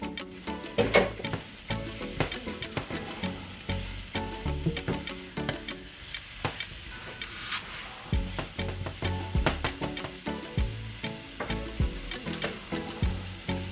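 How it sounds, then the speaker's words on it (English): Mushrooms hit a hot pan for an Alfredo and sizzle with a steady crackle, broken by frequent sharp clicks and scrapes of stirring, close and moderately loud, with no talking. "So now I'm adding my mushrooms."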